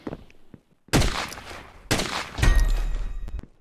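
Gunfire from a weapon firing on its own in the shooter game poxel.io, loud close bursts of rapid shots in two main volleys, the second running into a sustained heavy barrage.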